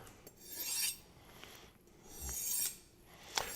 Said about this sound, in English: as honing the knife